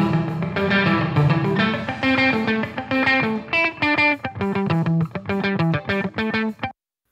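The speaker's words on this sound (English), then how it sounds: "you'll hear that there'll be a lot more reverb applied to the track" A music track with heavy reverb applied, strongly distorted and washed, echoing, tones smearing into each other before cutting off abruptly at the end.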